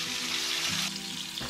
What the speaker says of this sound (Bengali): এতে নুন হলুদ মাখানো আলুগুলোকে দিয়ে দেব